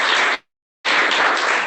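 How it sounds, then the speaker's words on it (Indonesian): Loud, close applause for a student group in a classroom, two bursts of clapping separated by a brief silent gap, with no voices. "Baik, berikan aplaus."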